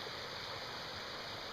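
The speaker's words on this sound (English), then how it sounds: "I can give you a good view of the stream. It's flowing nice." A clean forest creek runs steadily with a continuous broadband rush of flowing water, close and unbroken, with no voices.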